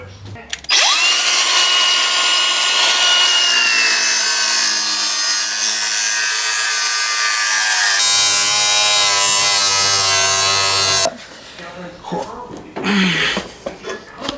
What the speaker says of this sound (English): We're going to give it a chop and see what happens. Where's the grinder?